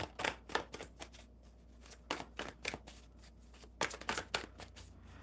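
A deck of tarot cards is shuffled in quick, rhythmic bursts of crisp riffling and flicking, close and clear in a quiet room.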